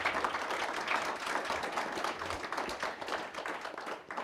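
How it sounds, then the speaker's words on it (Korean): Audience applause welcoming a speaker to the stage at an international family conference, a sustained wash of many hands clapping at an even, moderate level with no talk over it. "뜨거운 박수로 환영해 주시기 바랍니다"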